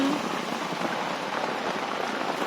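Rain falling steadily close by, a dense, even hiss of drops on a surface that continues without pause throughout, with no clear voices.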